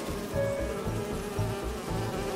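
A swarm of holographic bee wolves from Marvel's Spider-Man 2 drones in a throbbing, rhythmic insect buzz that swells and dips, close and continuous, with no talking.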